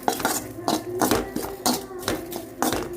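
A spoon scrapes and clinks against a pan while okra is dry-roasted without oil, stirred in a steady rhythm of close taps and scrapes about every half second.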